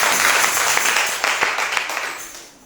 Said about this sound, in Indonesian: Mari berikan tepuk tangan yang paling meriah bagi Tuhan.